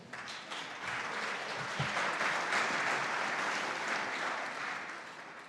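An audience applauds to welcome a speaker onto the stage at a talk on groundwater rights: dense, even clapping from a room full of people, sustained for several seconds before tapering slightly at the end.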